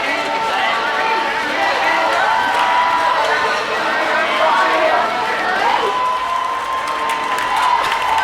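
A played crowd cheering and applause effect roars loudly and continuously, with claps and shouts blended into one dense wall of cheering while people talk over it nearby.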